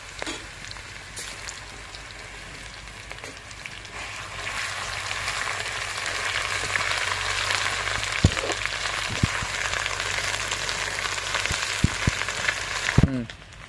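Ginger and garlic paste fries in hot oil, a broad hiss that swells after a few seconds and holds steady, with a few sharp clinks of utensils near the end.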